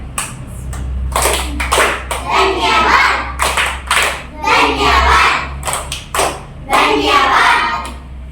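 Children in a Kannada Nali Kali classroom clap a rhythmic thank-you pattern, loud close groups of hand claps in a set beat while their voices chant along.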